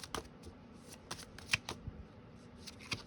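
Tarot cards are shuffled by hand close up, giving soft papery riffles and flicks in quick irregular bursts with a few sharper snaps, quiet and alone with no voice.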